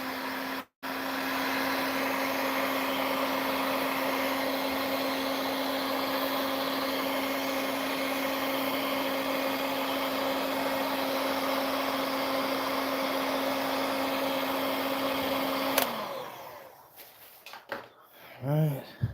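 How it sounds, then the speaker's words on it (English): A heat gun blows hot air over a fishing lure for about sixteen seconds, a steady near whooshing drone with a constant whine, then it switches off and brief handling noises follow. "Hit it with the heat gun."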